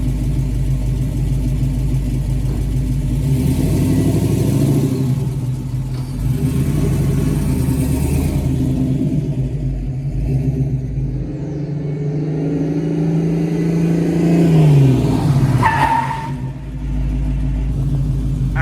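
A Hemi-swapped 1970 Dodge Challenger with a Wilwood big brake kit drives with a loud, close engine rumble that rises and falls, then brakes hard with the front tires locking near the end, no talking.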